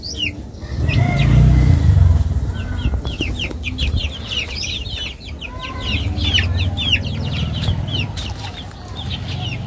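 Several backyard chickens and one large rooster cluck and call in a rapid, continuous chatter, fairly close, with a deep rumble swelling underneath during the first few seconds.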